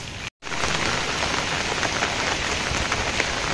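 Steady village rain pours down in a dense, unbroken hiss that fills the whole short stretch after a split-second gap, close and loud with no voices.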